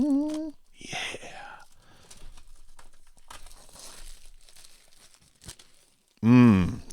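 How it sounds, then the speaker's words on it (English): Protective plastic film tearing and crinkling as it is peeled off a TobenONE USB-C docking station, with several crackly bursts of moderate loudness between pauses, near the microphone, and a voice heard briefly. "we need that satisfying plastic sound"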